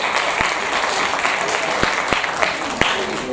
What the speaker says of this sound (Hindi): तालियों से उनका स्वागत करें।